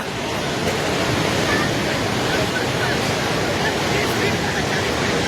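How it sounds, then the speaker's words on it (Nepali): Steady roar of the flooded Trishuli River in Nepal, rushing, churning water with crashing waves, loud and continuous throughout with no pauses. "हेर्नुहोस् त त्यहाँ छाल"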